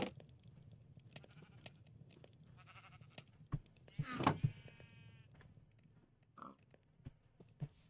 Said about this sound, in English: Hey sheep, you want to follow me?